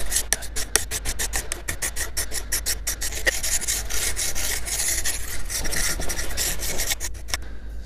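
A metal file is draw-filed along a bottle opener in long, straight strokes, making a loud, close, rhythmic rasping with regular repeated passes and no speech.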